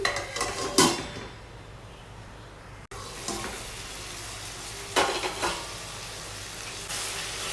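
Tomatoes, cashews and almonds fry in a pan for paneer butter masala, a quiet sizzle under occasional louder scrapes and stirs, with a brief break partway through.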